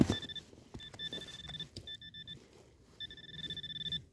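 A detector beeps repeatedly in short high-pitched bursts while a wartime dugout is dug out, fairly quiet, with soft rustling and handling noises underneath.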